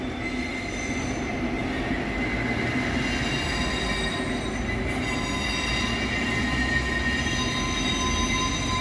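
A yellow rail maintenance train runs along the tracks at night with a loud, steady rumble and high metallic wheel squeal that holds throughout, close by.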